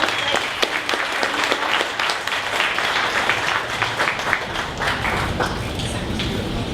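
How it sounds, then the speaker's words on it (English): Audience applause at a 1 Million Cups Dallas startup pitch event, a steady wash of many hands clapping that fills the whole stretch at even loudness, with no talk over it. "Another round of applause for"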